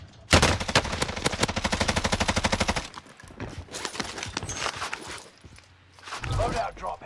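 A Type 100 submachine gun fires in Vanguard Warzone on Rebirth Island, a rapid rhythmic burst of close shots for about three seconds, followed by scattered gunfire and movement sounds.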